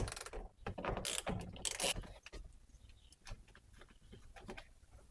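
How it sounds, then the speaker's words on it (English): Screws being backed out of the engine cover on a Mazda CX-9 Skyactiv turbo, with a few quick ratcheting bursts up front, then softer scattered clicks and handling noises, close and fairly quiet. "We'll start by removing the screws."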